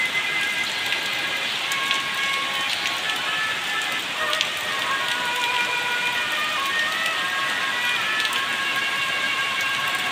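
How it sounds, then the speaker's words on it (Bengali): Heavy rain with big drops pours down outdoors onto tree leaves, a steady, dense hiss that holds at an even loudness for the whole stretch, with no voices. "বৃষ্টিগুলো দেখেন কিভাবে বড় বড় ফোঁটা হয়ে পড়তেছে এখানে।"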